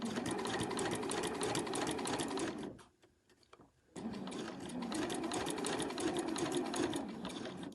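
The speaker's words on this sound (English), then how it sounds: "I'll just continue to sew along that diagonal line" A sewing machine stitches along a diagonal line across fabric, running in a fast, steady, close buzz that stops briefly for about a second before resuming at the same pace.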